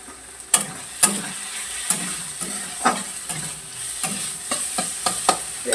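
Rice frying in a pan while being stirred, with a low sizzle beneath irregular close scrapes and knocks of a spatula against the pan, several distinct hits spaced across a few seconds.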